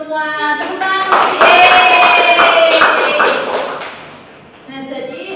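Short burst of classroom clapping from students during a microteaching lesson, swelling and fading over a few seconds, mixed with a bright synthesized jingle and followed by chatter.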